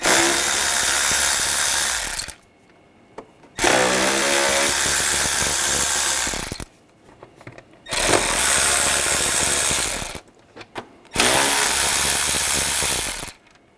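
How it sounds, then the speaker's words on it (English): A power tool runs in four long bursts with short silent gaps between them, loud and close, as a T25 socket drives out the cover screws on a BMW 550i during alternator work. "Using a T25 socket, we're going to take these screws out."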